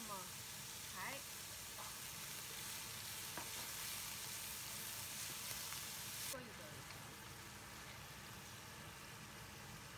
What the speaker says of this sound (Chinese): 放一半的葱花进去，翻炒。